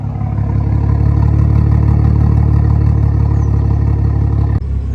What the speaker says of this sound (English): This thing genuinely sounds cammed.